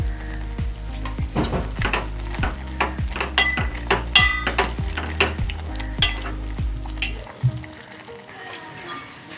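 Ginger garlic paste and chili powder frying in a pan with greens for thotakura majjiga pulusu, a loud steady sizzle under rapid, rhythmic spoon scrapes and clinks that fade toward the end.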